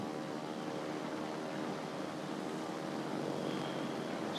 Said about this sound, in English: now we're gonna go test the torpedo bombers here